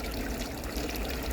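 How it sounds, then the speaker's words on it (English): Water trickles steadily from a burst pipe on a frozen canal side, a soft continuous splashing dribble lasting just over a second with no talk. "The pipe is burst by the looks of it."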